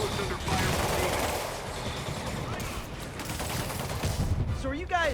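A dense, roaring volley of gunfire rolls on without pause in the video game Marvel's Spider-Man, with game voices faintly mixed into the din.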